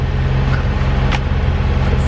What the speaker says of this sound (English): It's the sound of the engine.